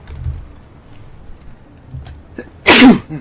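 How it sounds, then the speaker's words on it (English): A single loud, sharp sneeze bursts out near the end, following a stretch of quiet room noise with faint low rumbling and scattered small sounds. "I can never react to my sneezes in time to like mute or anything"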